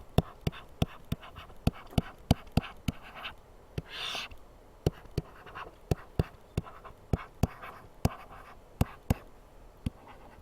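A pen moves across paper while writing out algebra, giving sharp little taps and ticks at an irregular pace with a soft scratch in between, close up and without speech.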